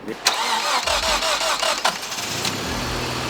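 A Mazda MX-6 engine, long left sitting and dusty, cranks with a few rapid starter pulses, then catches and settles into a steady idle, loud and close.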